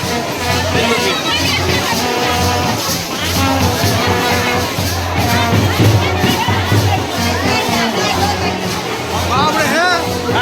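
A large crowd at the Vivah Panchami festival in Janakpur Dham, Nepal, keeps up a loud, continuous babble of many voices with scattered shouts, close and dense throughout, and a nearby voice talks over it.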